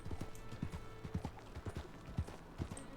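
Horse hooves clip-clop in a steady, even walking rhythm in a video game, fairly soft and continuous across the clip with faint background ambience.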